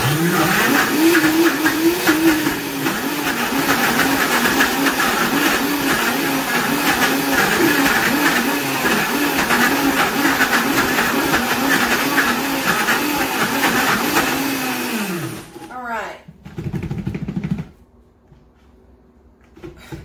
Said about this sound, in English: I'm having some issues with such dry ingredients in the blender